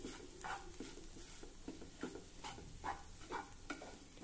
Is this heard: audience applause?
no